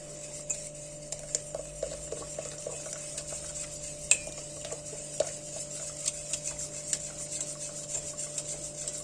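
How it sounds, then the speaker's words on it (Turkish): A whisk stirring tarhana soup made with flour in a pot, producing soft repeated scraping and light metallic taps at an uneven rhythm over a steady low hum, close and quiet, with no talking. "Çırpıcıyla da şöyle çorbayı karıştırıyorum."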